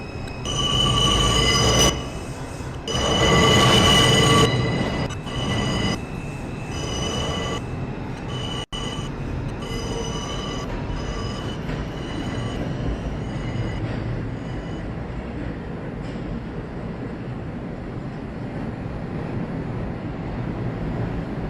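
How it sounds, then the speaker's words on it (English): A Brooklyn-bound 3 express subway train runs in the Roblox game IRT Subway Mainline, giving a loud, close, continuous rumble with bright wheel squeals and whine, heaviest in the first few seconds. "This is a Brooklyn-bound 3 express train."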